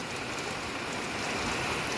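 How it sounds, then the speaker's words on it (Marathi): Rain falls steadily in a village, a dense even hiss of drops with no breaks or voices over the short stretch. "मित्रांनो पाऊस चालू झाला आहे"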